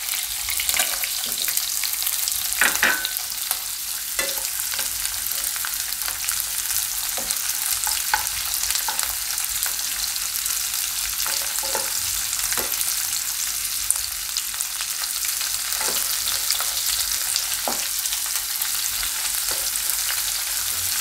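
Cauliflower and mixed vegetables fry in a pan with a continuous bright sizzle, broken by regular scrapes and taps of stirring, close and alone.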